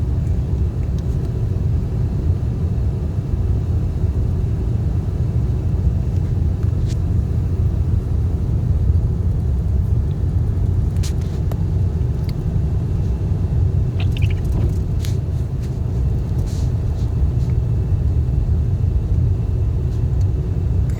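Cars drive past on a slushy, snowy road during a first snowfall in Yakima, Washington, a continuous low tire-and-engine rumble with a few faint clicks, no talking.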